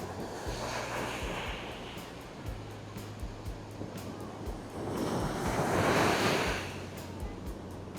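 Ocean surf rolls in on a beach at Puri and swells to a louder wash midway, with steady wind and a low hum underneath.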